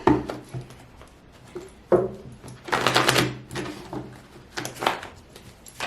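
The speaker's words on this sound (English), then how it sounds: "I'm going to go through each sign now, shuffle a little bit, and then just go through the deck" Tarot cards are shuffled by hand in several short bursts of papery riffling and flicking, close and fairly quiet, separated by brief pauses and soft handling taps.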